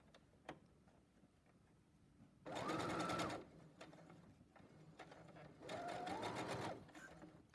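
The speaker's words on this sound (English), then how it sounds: "Always backstitch on these because they get pulled on a lot." A sewing machine backstitches a fabric face mask in two short bursts of rapid mechanical whirring separated by quiet handling clicks, close and fairly loud.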